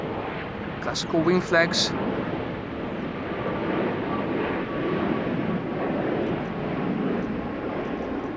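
Korean Air Boeing 787 Dreamliner at Schiphol Airport, a broad steady jet engine roar held at constant loudness throughout, with a voice speaking briefly over it near the start.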